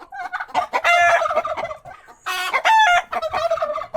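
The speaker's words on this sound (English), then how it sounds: "This is John's chicken" Chickens on a Jamaican farm cluck and squawk loudly and close by, in rapid bursts with a brief pause midway, no talking over them.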